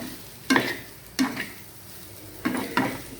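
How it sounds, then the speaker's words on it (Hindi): Chicken coated in masala fries in a pan with a soft continuous sizzle, broken by four sharp clinks and scrapes of a utensil stirring against the pan, close and without talk. "तो पानी डालने से चिकन को मसाला लग गया। फिर फ्राई करेंगे।"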